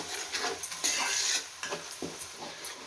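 Spice paste with turmeric fries in a pan for a mushroom masala gravy, a soft sizzle broken by repeated scraping stirs and light utensil taps in an uneven rhythm.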